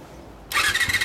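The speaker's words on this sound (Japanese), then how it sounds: "エンジン音聞かせてもらえますか" A 1990 Repsol Honda CBR250RR MC22 motorcycle engine fires up abruptly after a quiet moment, then settles into a loud, close, rapidly pulsing high-revving buzz with no talk over it.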